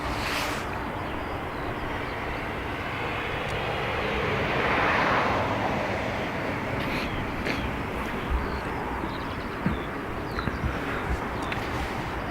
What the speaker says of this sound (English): So Ryanair off to Berlin.